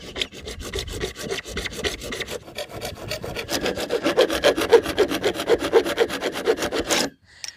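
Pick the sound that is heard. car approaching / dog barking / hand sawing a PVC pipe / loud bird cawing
hand sawing a PVC pipe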